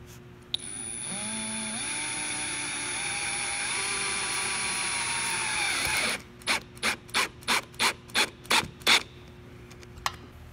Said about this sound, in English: So I'm just using a self-tapper 5/8 screw